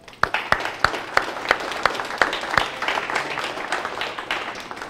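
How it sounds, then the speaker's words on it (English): Audience applause following thanks to a host facility at a security conference talk, heard as scattered individual claps with sharp, spaced hand strikes over a soft crowd wash, moderately distant and fading toward the end. "Please give them a round of applause."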